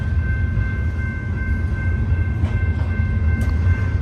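Freight cars roll steadily through Lower Sworthout Canyon, a continuous heavy low rumble close by, with faint metallic squeals and a couple of brief clanks near the end, no voices present.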